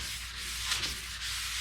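A hand sanding block is rubbed over a workpiece in a continuous close scratchy hiss, steady and fairly quiet with slight rhythmic swells from the back-and-forth strokes and no talk.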